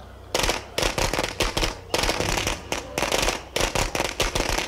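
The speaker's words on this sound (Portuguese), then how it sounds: "Jogar uma bombinha e depois jogar um molotov nela ali." Rapid crackling bursts of a firecracker go off in State of Decay 2, loud sharp pops clustered in several quick volleys with brief gaps, no voices over them.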